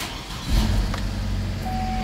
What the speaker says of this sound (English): The car is starting to run fine,